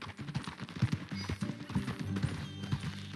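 Horse hooves galloping in Red Dead Redemption 2, a rapid rhythmic clip-clop of hoofbeats, loud and close, with a faint murmur of game sound beneath.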